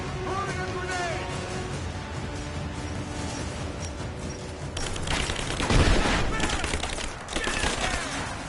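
Gunfire crackles in Rise of the Tomb Raider: steady distant shots at first, then heavier, louder volleys with a booming impact midway, mixed with battle noise.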